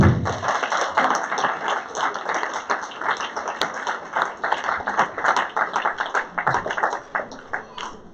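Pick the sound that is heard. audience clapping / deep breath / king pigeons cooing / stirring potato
audience clapping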